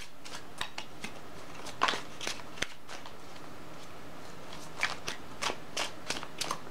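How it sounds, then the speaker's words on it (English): Shuffling of a new, unusually long urban-themed tarot deck, heard as scattered crisp card riffles and flicks with short gaps between them, close and fairly quiet, with no talking. "This urban deck is new and it's really hard for me to shuffle because it's just really long"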